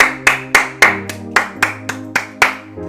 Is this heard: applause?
yes